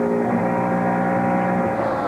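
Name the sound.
Jeff Gordon's race car engine, back on the throttle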